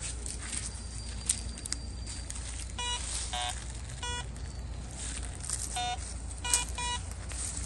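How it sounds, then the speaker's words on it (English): A SUNPOW kids' metal detector sounds electronic beeps in short irregular bursts, some chirping warbles, over constant outdoor noise and faint shuffling. "the louder the beep, the better the metal"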